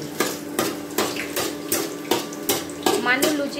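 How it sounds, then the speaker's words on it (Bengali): Luchi, small Bengali puffed flatbreads, frying in a pan of oil that is running low, giving repeated bubbling sizzle bursts with soft clinks of utensils at a steady, close rhythm. "মানু লুচি ভাজছে, কত আওয়াজ করছে, ঢুক ঢুক ঢুক ঢুক করে আওয়াজ করেই যাচ্ছে।"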